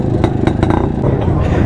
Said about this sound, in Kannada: ಇಲ್ಲೊಂದು ಕ್ಲಾಸಿಕ್ ಗಾಡಿ ಬಂತು